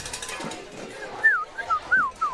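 At a fast-pitch softball tournament game, a person whistles short rising-and-falling chirps imitating a little bird, several quick warbling notes over faint crowd and field background.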